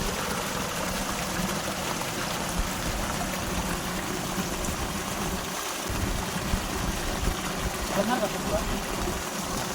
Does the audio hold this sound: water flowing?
yes